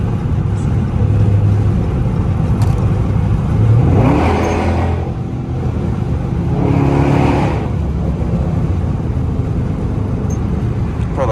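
A Dodge Charger R/T engine revs in a tunnel, with two loud swelling rev bursts ringing off the walls over a steady low rumble.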